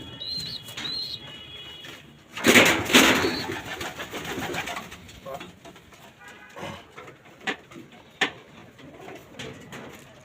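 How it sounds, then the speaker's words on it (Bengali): Coos from racing pigeons, among them a silver bagha, rumble softly at a loft, with a brief louder flurry of flapping or handling noise near the start and scattered small knocks. "সিলভার বাগা কবুতর"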